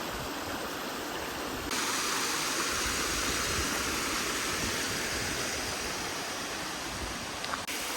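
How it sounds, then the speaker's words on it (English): Waterfalls rushing along a Bay Area hiking trail, a steady broadband roar of falling water that swells louder after the first couple of seconds and holds constant, close and unbroken. "I think I hit the holy grail of the trail with all these waterfalls."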